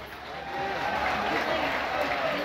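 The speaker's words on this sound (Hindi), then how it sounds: "आपण मान बहुमूल्य मतामत को करताली माध्यम जनातु" An audience claps steadily at an Odia gananatya folk theatre performance, a dense, sustained wash of applause that swells after the first half-second and holds at full strength.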